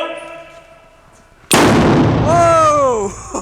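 A training grenade without its flash charge detonates indoors in a single loud, sharp blast that rings on in the room, followed by excited shouting and voices.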